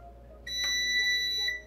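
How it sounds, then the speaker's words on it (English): A lithium-ion UPS sounds a single steady electronic beep at power-on, lasting about a second against a quiet background, with a brief click near its start. "Turning on the UPS gives you a nice little beep"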